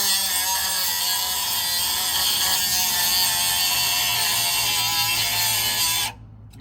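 A high-pitched power tool whines steadily as it cuts through a broken U-bolt on a 1999 Toyota Tacoma, loud and close, then stops abruptly near the end.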